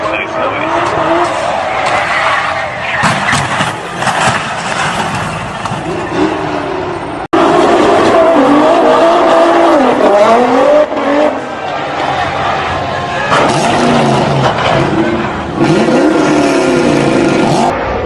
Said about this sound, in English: That GTR makes nice noise.